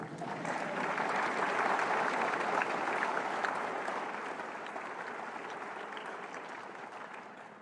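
A convocation audience claps in a sustained, even round of applause that holds steady and then gradually eases off.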